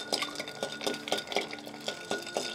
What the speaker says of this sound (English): And begin the stirring.